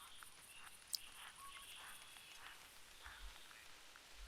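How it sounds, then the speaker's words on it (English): Light rain in the hunting game theHunter: Classic, a faint, steady patter of drops across an outdoor reserve with one brief sharper tick, no voices. "we got more rain passing through the area."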